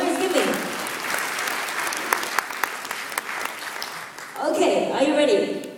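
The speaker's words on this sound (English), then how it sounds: "let us give the USA team a big round of applause" An audience at a startup pitch event bursts into applause, with dense clapping and a few sharp claps, as a person talks before and after it.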